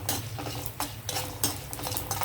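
Curry leaves and dried red chillies sizzle in hot tempering oil for coconut chutney, a continuous close crackle with a spoon scraping and stirring the pan in quick irregular strokes.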